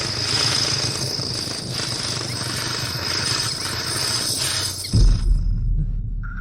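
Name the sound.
electric drill drilling into military glass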